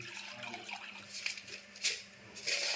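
Soft splashing and trickling of water being poured into a bowl of rice flour, faint and close, with a few brighter bursts near the end.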